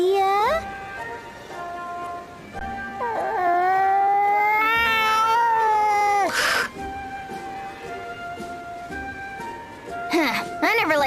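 A cat in the video game Bravely Second meows and yowls in drawn-out, wavering cries, loud and close, with several rising and falling calls over game music.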